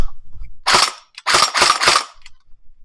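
An RX AK47 V3 gel ball blaster toy fires close by: one sharp crack, then a rapid burst of three snappy shots, with faint mechanical clicks around them.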